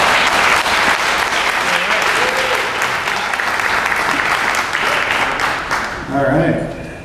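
Sustained applause from an audience at an awards ceremony, steady and full for several seconds before tapering off as a voice begins near the end.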